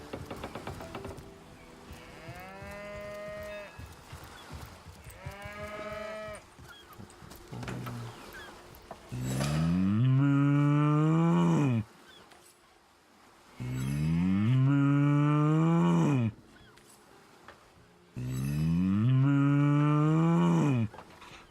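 A voice actor imitates a cow mooing in the video game Divinity Original Sin, with three long, loud, close moos at steady intervals after softer bellowing calls.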